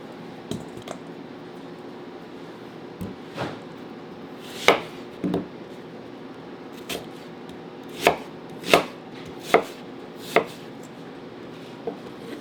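An onion and a yellow pepper chopped on a cutting board, giving a dozen or so sharp knife strikes at an uneven pace with pauses between them, close and clear over a quiet background.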